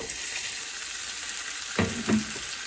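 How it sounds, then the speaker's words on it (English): Beef strips hitting a hot pan over a big burner for a stir fry, a constant background sizzle that swells with a couple of louder bursts as the meat goes in near the end. "So I'm going to add our beef"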